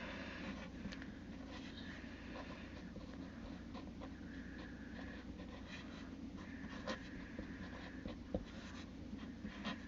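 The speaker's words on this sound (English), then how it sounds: "I'm going to write this 3 times." A pen writes on a name paper in steady scratching strokes, close and quiet against a faint room hiss, with short pauses between words and no talking.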